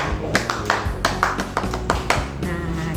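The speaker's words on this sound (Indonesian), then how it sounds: "Satu kali tepuk pramuka." Scout-style rhythmic clapping (tepuk pramuka) by a group of Indonesian scout trainees, a brisk patterned sequence of sharp claps with short pauses, close and loud, then stopping.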